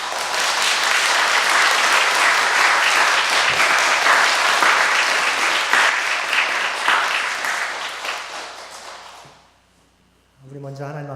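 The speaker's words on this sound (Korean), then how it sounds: "박수로 크게 영접해 주시길 바랍니다" A church congregation claps loudly for several seconds at a Sunday service, a dense, steady wash of applause that fades out, followed by a voice beginning to speak.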